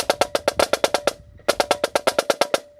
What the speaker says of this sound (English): you're going to go straight into flam 3s off the right hand and then off the left hand.